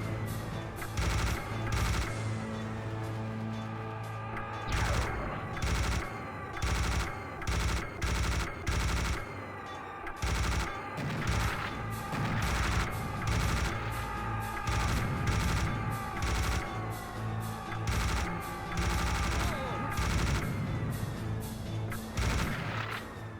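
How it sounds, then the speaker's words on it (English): A minigun fires in the video game Serious Sam: The First Encounter, a sustained roaring stream of rapid shots with heavy booming impacts, continuous and loud throughout with short gaps. "I will be having the minigun."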